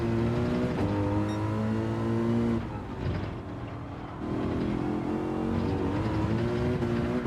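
A Group 3 race car engine in Gran Turismo 7 drones at high revs, then dips briefly as the throttle lifts before building back up to a sustained, loud, close roar.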